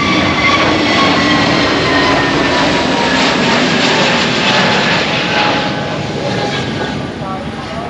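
An airliner taking off at Madeira airport, a loud sustained jet-engine roar close by that stays strong throughout and tapers slightly toward the end as the plane climbs away.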